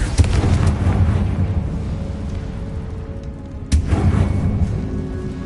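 A Confringo fire spell explodes in Hogwarts Legacy, a booming burst with a rumbling tail and then a second sharp blast, close and loud, with no speech.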